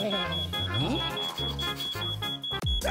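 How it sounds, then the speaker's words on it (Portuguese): A smoke alarm sounds a steady, piercing high tone that runs through the whole stretch, under voices, music and busy scene noise. "Ah, não. Alarme."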